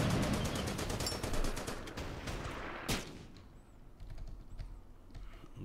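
Rapid gunfire in a WWII D-Day video game: a dense burst of fast, sharp shots at the start, a single louder crack near the middle, then quieter scattered shots.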